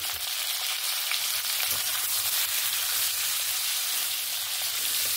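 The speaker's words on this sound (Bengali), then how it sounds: "এই আলু পটলটাকে একদম সুন্দর লাল লাল করে ভেজে নেব" Steady, loud sizzling of potatoes and pointed gourd frying in a hot pan, a continuous crackle with no talking.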